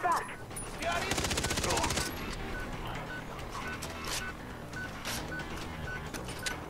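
Gunfire in the video game Far Cry 3: a dense rapid-fire automatic burst lasting about a second, followed by scattered sharper shots and cracks over a busy game background.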